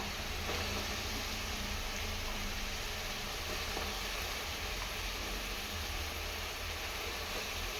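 Brinjal pieces sizzling in a pan of tomato masala for Mandya-style vangi bath, a dense, loud, continuous hiss close by that stays steady throughout.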